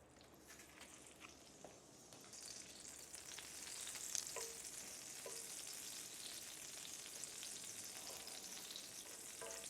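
Butter and oil sizzle in a frying pan over medium heat, a faint, steady crackling hiss with occasional small pops and spits throughout. No one speaks.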